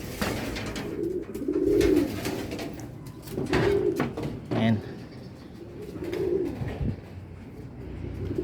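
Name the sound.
pigeons cooing, four hens and one cock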